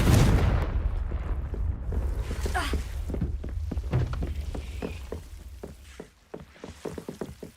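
A Confringo spell blast in Hogwarts Legacy: a heavy boom opens loud and rolls away, followed by a scatter of sharp cracks and crackling debris that fade toward the end.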